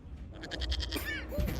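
Goat bleating in the video game Dragon Age: Inquisition, a couple of wavering bleats rising over low background game ambience.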